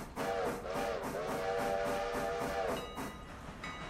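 A steady train whistle in the video game Railroader blows over rhythmic clanging of a bell and rumbling rail noise, continuous and fairly loud.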